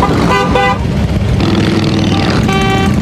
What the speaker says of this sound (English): drivers honking to show their support